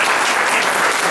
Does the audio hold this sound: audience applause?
yes